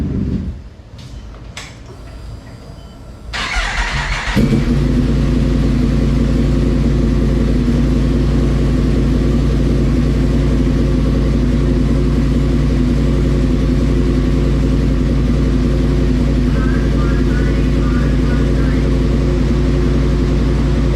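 Yamaha FZ10 MT10 motorcycle with a freshly flashed ECU, engine on a dyno: a few clicks and short bursts, then a sudden loud start into a sustained, droning rev with strong harmonic hum.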